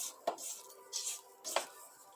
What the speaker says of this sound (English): you may need to come in here and scrape your sides down a little bit